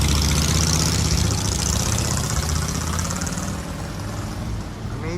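A noisy motorcycle engine rumbles loud and close on a downtown Toronto street, a steady throaty drone that fades slightly as it moves off.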